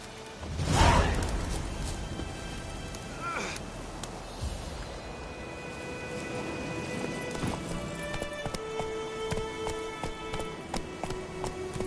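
Horse hooves in The Witcher 3 video game, a sharp clatter near the start then a steady galloping clip-clop with a whoosh of movement, continuing under ambient game sounds with brief speech.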